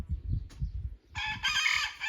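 A rooster crows loudly and close by, a long strained call after a second of low rumbling and shuffling.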